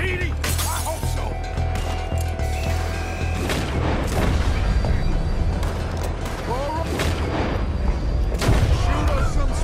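Shootout in the video game Red Dead Redemption 2: repeated booming gunshots crack over a busy battle din, with shouted voices mixed in throughout, loud and dense.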